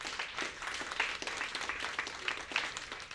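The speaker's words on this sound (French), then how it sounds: "on peut vous applaudir tous les deux." An audience at a morning conference event applauds, a fairly faint, steady patter of many hands clapping throughout.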